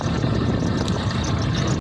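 A tractor engine runs steadily and loud at close range, a dense continuous drone that cuts off abruptly at the end.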